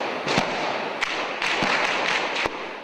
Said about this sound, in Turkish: Afganistan'ın Celalabad şehrinde silah sesleri şehrin her yerinden duyuldu.